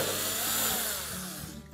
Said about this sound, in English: So remove the screws along the sides.